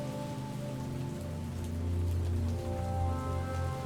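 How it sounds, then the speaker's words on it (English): Steady rain patters across a video game scene, a dense even hiss with a low rumble underneath, continuous and fairly close with no voices. "And it's really raining."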